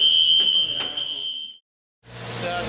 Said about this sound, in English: First fire alarm of the tour.